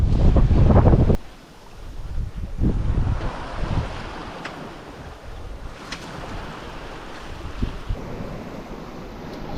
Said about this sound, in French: On a des vagues qui déferlent, là on a 20-25 nœuds